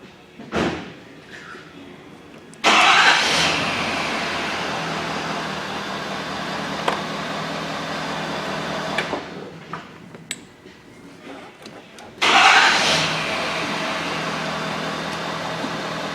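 A 2004 Ford F-350 with the 6.0L engine, running rough, cranks and fires up twice, each start a sudden loud burst that settles into a steady close idle, with a brief quieter gap between the two runs.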